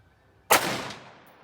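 A single sharp rifle shot from a Ruger SFAR semi-automatic chambered in 6.5 Creedmoor, fired outdoors at a range; loud crack after brief quiet, followed by a rumbling echo that fades over about a second.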